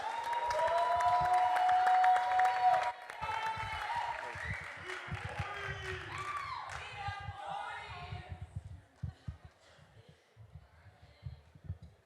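Audience at a youth poetry slam applauds and cheers loudly for a 16-year-old poet from Seattle, with whoops and shouts rising over dense clapping before the noise thins and fades toward the end.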